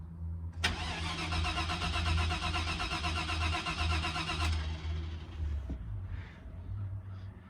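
A car engine fitted with a Holley Terminator X fuel injection system is cranked and fires, giving a sharp start, a dense, loud mechanical roar for several seconds, then a drop to a lower, rumbling idle, close by.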